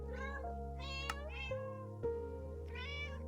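Several cats in the game Minecraft meow in a quick run of separate calls, clear and close, over a steady low hum.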